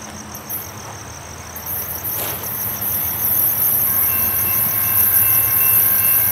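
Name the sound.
CSX freight train approaching a railroad crossing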